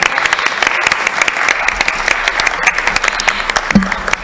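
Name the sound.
audience applause welcoming a speaker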